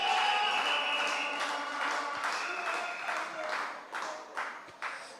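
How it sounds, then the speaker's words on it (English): Clapping from a gathered crowd at a school event at Cocoa Valley, a dense patter of many hands that stays steady, then thins into scattered claps toward the end, with some voices mixed in. "Give them a round of applause"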